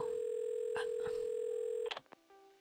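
A telephone's steady dial tone hums, broken by a few brief dialing tones, then cuts off and leaves short clicks and faint tones as the call connects.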